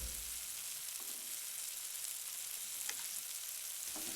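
Chicken pieces and crushed pepper frying in a pan for a chicken korma, giving a soft, steady sizzle with a few faint stirring scrapes.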